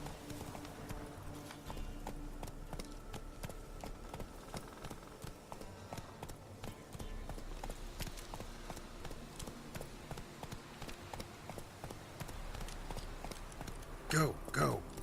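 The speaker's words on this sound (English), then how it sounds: "Run, Roach. Let's get through here." Hoofbeats of a horse galloping through The Witcher 3 game world, a steady clip-clop rhythm running throughout, mixed with game sounds and music, with a brief louder burst near the end.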